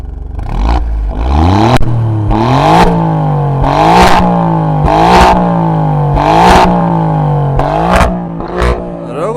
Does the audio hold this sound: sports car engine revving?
yes